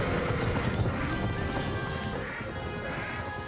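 Horses gallop in a Star Wars battle scene aboard a star destroyer, a busy rumbling clatter of hooves mixed with film score and effects that fades slightly toward the end.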